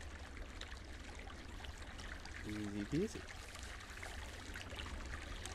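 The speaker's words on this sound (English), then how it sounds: "As we listen to the river here" A river flowing in Firewatch, a steady faint rushing of water in the background while someone speaks briefly over it.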